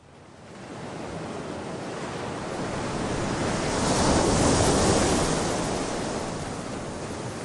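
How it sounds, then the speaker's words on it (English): Strong seaside wind roars across the microphone like breaking surf, swelling to a peak midway and easing slightly toward the end; no voices. "today is not a storm. We're not in a storm, but it's very windy"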